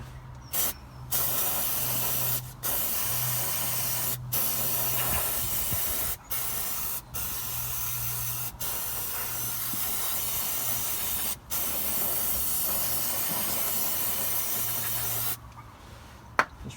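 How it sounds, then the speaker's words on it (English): Carburetor cleaner sprays around the exhaust of a Vauxhall Astra H 1.6, a series of sustained close aerosol hisses broken by short pauses, with a low hum underneath. "So we've got a little bit of carburetor cleaner just to spray round."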